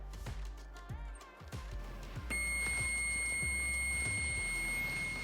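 A multimeter set to continuity is tested on a part from a Splendide RV dryer that is not heating, and a steady high electronic beep sounds through the second half after some handling clicks and knocks, close by and without talk.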